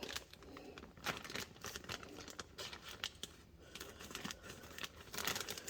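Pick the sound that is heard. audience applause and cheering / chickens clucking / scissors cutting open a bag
scissors cutting open a bag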